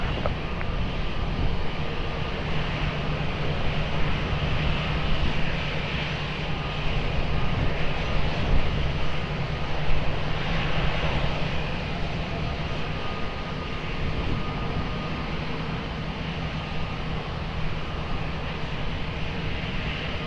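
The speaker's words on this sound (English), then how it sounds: "clear for immediate takeoff" A fixed-wing airliner taking off at Lisbon Airport, its engines a loud, steady, broadband roar that holds level throughout without voices.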